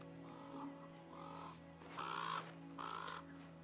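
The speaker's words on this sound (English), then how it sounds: "Crow!" A crow cawing in the video game Until Dawn, four harsh caws spaced about a second apart over a steady low background hum, moderately loud and alone.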